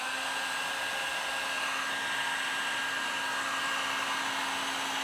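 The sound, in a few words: heat gun shrinking heat shrink tubing on soldered pixels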